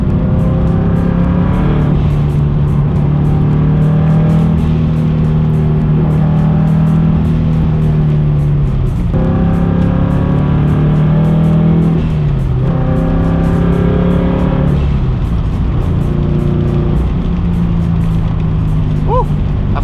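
Turbocharged Subaru BRZ engine revving loudly through repeated partial-throttle pulls, the tone rising and dropping between gear shifts, steady and close throughout with a faint voice in the background.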